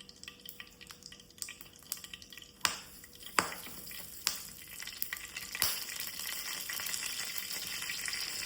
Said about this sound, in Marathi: सासवा घालता फोडणी.